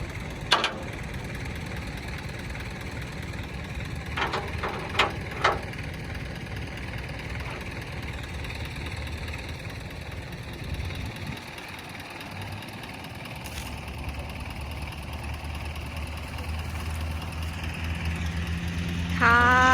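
A used 2016 farm tractor idles steadily for the whole stretch in a continuous low engine drone, with a few brief sharp clicks and knocks over it and some faint squeaks toward the end.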